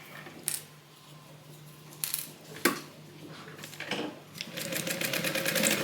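A sewing machine with a freshly changed needle stitches a Bible cover: sharp isolated clacks and short bursts, then a rapid continuous run of stitching that builds near the end, close and clear.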